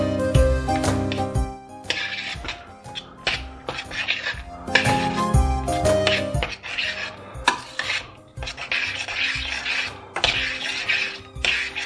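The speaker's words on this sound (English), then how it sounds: "So we'll give it a stir." Spoon scraping and clanking around a metal pot as thick tomato sauce is stirred, irregular knocks and rubs, close and fairly loud with no talking.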